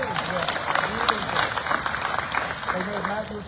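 An audience applauds a young guy at a congressman's legislative update in Destin: steady, dense clapping throughout, close and loud, with a voice speaking over it.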